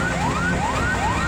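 Wailing fire engine sirens at a building fire in Indonesia, rising sweeps repeating about every half second over a steady roar of traffic and crowd noise, loud and continuous.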